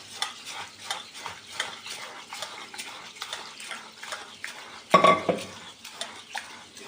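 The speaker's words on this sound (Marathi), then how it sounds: "पाणी टाकून याला चांगलं धुवून घ्यायचं एकदा बाजरीला." Millet (bajri) grains sloshing in water as they are washed by hand in a vessel, with soft rhythmic swishing and a brief louder clatter of the pot partway through. Close and fairly quiet, with no voices.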